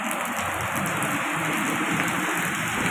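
Heavy, steady downpour of the season's first rain in Thai Binh, Vietnam, a dense continuous hiss of drops hammering surfaces nearby, even and unbroken throughout with no voices.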